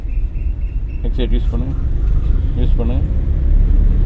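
A car's engine holds a steady low rumble that slowly grows as it accelerates during a driving lesson, heard from inside the cabin, while people talk over it.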